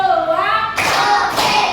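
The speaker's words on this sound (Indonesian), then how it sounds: "Tepuk 1, tepuk 2," A classroom of children clapping in unison to a rhythmic count, two sharp group claps after a teacher's spoken cue.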